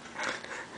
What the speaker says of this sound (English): The dog is right here underneath.